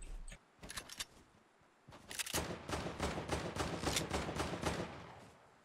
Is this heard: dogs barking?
no